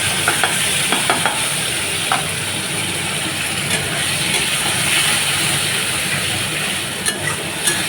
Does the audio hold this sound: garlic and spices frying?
yes